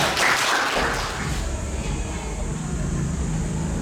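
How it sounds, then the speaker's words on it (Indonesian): Students in a classroom break into a brief burst of clapping at the start, and it quickly gives way to a steady background hum and room noise. "kita tepuk tangan dulu."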